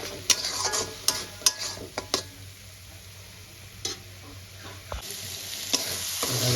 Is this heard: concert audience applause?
no